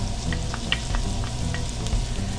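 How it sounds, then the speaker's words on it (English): Diced onions and garlic sweating in butter in a soup pot: a soft, steady sizzle with faint scattered pops, quiet and close, with no talking. "We're going to let that sweat down in the butter."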